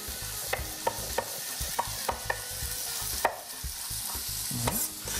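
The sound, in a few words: Polish sausage frying and tossed in a pan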